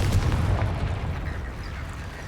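In the Hogwarts Legacy video game, a Confringo spell blasts apart a barricade blocking an archway, a loud low explosive boom with crackling debris that fades over about two seconds.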